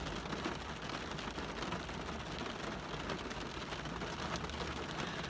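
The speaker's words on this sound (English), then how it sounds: "It is pouring down rain." Heavy rain pours down outside a parked car, a dense, steady hiss of drops drumming on the body and glass with no letup, loud and close, and no one speaking.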